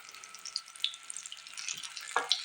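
Four pieces of an atta (wheat flour) breakfast snack fry in a pan over a low flame, a soft steady sizzle with faint crackles and a few stirring or handling sounds.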